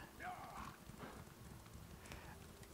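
Hoofbeats of a horse galloping in The Elder Scrolls Online, a rapid clip-clop rhythm under a faint whinny, with a player talking over the sound.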